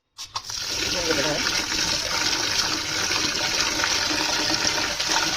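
Ration rice for papad is rinsed in water with a sudden splash, then a loud, steady rush of gushing water that runs continuously close by, with no speech.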